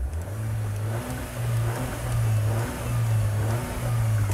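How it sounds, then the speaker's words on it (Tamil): Mahindra XUV700 SUV exhaust revving with a diesel-like note, the engine swelling in several repeated blips over a steady idle, close and loud with no talk. "ப்ரிட்டி மச் ஒரு டீசல் வண்டிக்கு இருக்கிற மாதிரி தான் எக்ஸாஸ்ட் நோட் நமக்கு வந்து கேட்குது"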